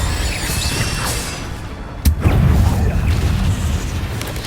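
An Incendio fire spell cast in Hogwarts Legacy, a sudden loud crack followed by a roaring whooshing burst of flame that rumbles on, set against a busy game soundscape.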